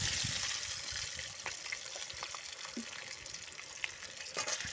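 Potatoes go into a hot pan and fry with a steady, loud, close sizzle that runs throughout, broken by a few faint scraping and stirring clicks.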